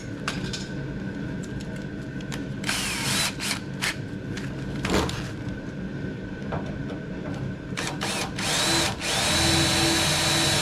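A power drill with a regular bit grinds in repeated bursts through a plug weld on a Jeepster pickup, whining and rattling close by, with clanks and brief pauses between runs.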